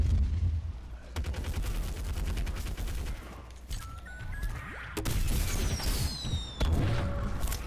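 Shooting in Plants vs. Zombies Garden Warfare 2: a dense rattle of rapid-fire shots and bursts over continuous battle noise, broken by sharp impacts and whistling effects, loud throughout with no speech.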